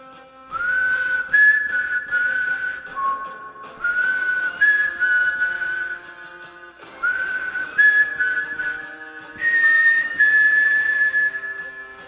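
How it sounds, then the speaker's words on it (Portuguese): A thin, high whistle plays a wavering tune in several sustained phrases with short pauses between them, clear and alone. "Um assobio fino foi ouvido vindo do meio do acampamento."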